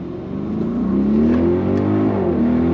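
An Audi RS Q8 performance SUV engine revving as it accelerates, a loud continuous growl rising gradually in pitch, heard up close with no talking.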